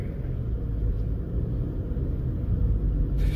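2021 Haval Jolion accelerating gently at quarter throttle, heard from inside as a smooth low engine and road rumble, steady and even throughout.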